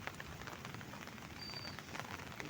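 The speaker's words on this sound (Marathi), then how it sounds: "पाऊस पण इकडे खूप म्हणजे गावाला चालूच आहे" Steady rain falls across a Konkan village in July, a soft continuous patter of drops on surfaces, moderately faint and even throughout with no voices.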